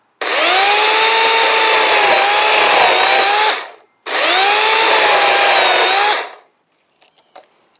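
A Saker mini chainsaw cuts through a 2x4 board in two loud, sustained bursts of high-pitched motor whine, separated by a brief pause, then falls silent apart from faint clicks.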